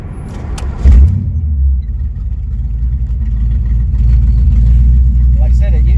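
A 1994 Chevrolet S10 Blazer V8 runs rough, a loud, close, low rumbling engine drone that surges briefly near the start and then holds unevenly throughout.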